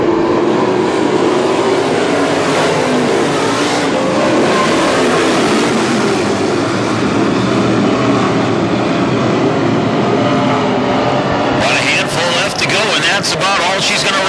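WISSOTA modified race cars roar past the grandstand at Ogilvie Raceway in a loud, continuous wash of engine noise, a pack battling for position, while an announcer calls the race over the din.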